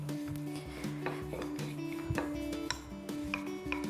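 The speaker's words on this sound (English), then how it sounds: "I'm just going to roll it out into a big circle" A wooden rolling pin rolling out dough on a floured surface, making repeated close rubbing, scraping strokes with a few soft knocks and tonal music underneath.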